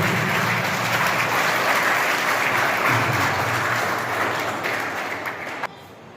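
Steady, strong audience applause at a voter awareness event at SN Girls B.Ed College in Nawalgarh, continuous clapping that fades slightly near the end before cutting off.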